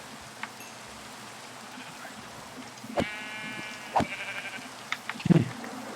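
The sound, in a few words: sheep bleating in a video game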